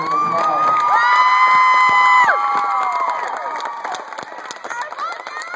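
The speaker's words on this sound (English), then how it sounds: "Please give them all another round of applause." School talent show audience cheering and clapping at an idol contest winner announcement, loud shrieks and whoops from young voices at first, then fading into scattered clapping and crowd noise.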